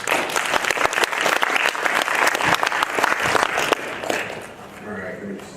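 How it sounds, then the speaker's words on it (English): An audience at a JRuby conference talk breaks into loud, dense applause that lasts several seconds, then thins out and fades as the clapping dies down. "Please give a round of applause to Charles."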